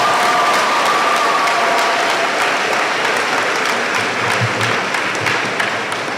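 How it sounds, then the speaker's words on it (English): Standing crowd at a Class of 2021 high school graduation giving loud, continuous applause, thick clapping from many hands that stays strong before easing slightly at the close. "One more big round of applause for everybody."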